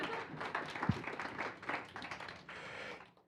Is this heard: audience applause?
yes